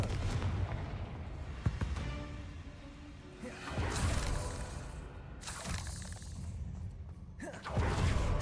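Confringo blasting spell going off in Hogwarts Legacy, a few whooshing bursts and booming blasts with crackling debris over a rumbling game backdrop, moderately loud and without talk.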